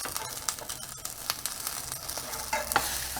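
A tuna omelet frying in a pan while being folded in half, with a soft steady sizzle and a few scraping spatula sounds, close and brief.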